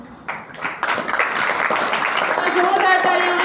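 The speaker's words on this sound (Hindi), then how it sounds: "जोरदार ताली होनी चाहिए।" Applause from a school audience at a Sanskrit recitation event, building from a few claps into sustained, loud clapping that fills the room, with voices mixed in beneath it.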